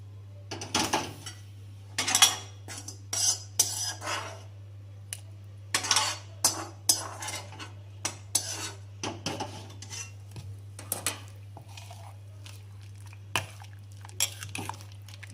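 A spoon stirs rasam made with coriander seeds in a metal pot, giving scattered clinks and scraping rubs against the vessel over a steady low hum.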